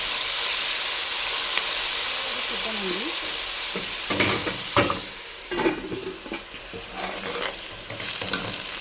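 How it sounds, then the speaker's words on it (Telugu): Sliced onions with a pinch of salt sizzle steadily in a pan, with scraping stirs and clinks of a spatula breaking in more sharply in the second half. "ఒకసారి ఇలా కలిపేసుకొని మూత పెట్టి ఉల్లిపాయ వేయించుకుందాం"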